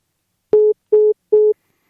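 Three identical electronic phone tones beep at an even pace, each about a fifth of a second long, clean and loud against silence.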